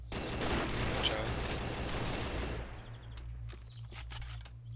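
Dense bursts of video game gunfire in a team shooter match, a busy rattling fusillade for the first half that thins to scattered separate shots, with players talking over it.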